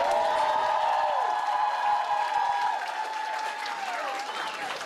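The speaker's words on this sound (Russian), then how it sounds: "давайте похлопаем этому альбому" An audience claps at Egor Sesarev's live concert, a dense wash of applause with sustained ringing tones underneath that slowly thins out.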